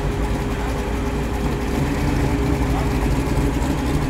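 A Holden Commodore muscle car idles with a steady, deep burble at a park car gathering in Sydney, loud and continuous throughout with faint crowd noise around it.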